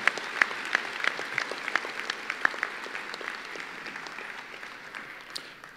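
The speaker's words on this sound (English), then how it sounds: "Let's give a round of applause to Dana and the rest of the TFAS family." An audience claps at a closing ceremony for a U.S. summer program, a steady wash of applause that thins and fades toward the end, with no talking.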